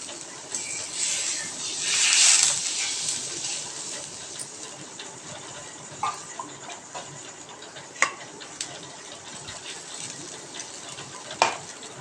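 Water boiling in a pot for patodi rassa curry, a steady bubbling hiss with scattered small pops and a louder surge of bubbling early on.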